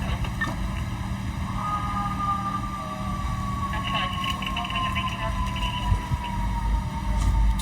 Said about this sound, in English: That's the ambulance. I gotta let the ambulance through.